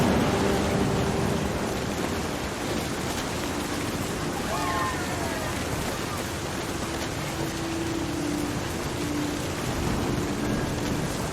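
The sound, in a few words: thunder in video game What Remains of Edith Finch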